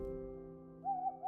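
A snowy owl gives a steady hoot in breeding season, one sustained call beginning partway through and carrying on to the end, fairly faint and heard alone over a low background hum.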